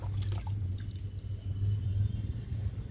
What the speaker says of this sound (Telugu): డబ్బాలో పోస్తున్నా.